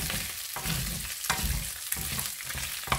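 Pork being stirred in a hot pan, with steady frying sizzle and periodic scraping strokes of the spoon roughly every half second, close and continuous with no talking.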